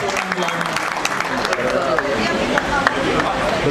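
Audience applause at an organ donation festival event, dense steady clapping from a crowd throughout, with some chatter mixed in.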